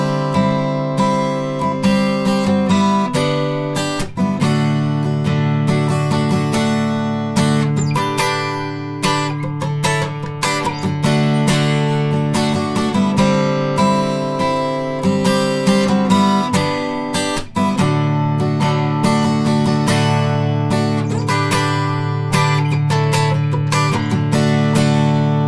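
A looped acoustic guitar strumming part from a song repeats rhythmically, loud and close, with steady chord strums running unbroken throughout and no voice.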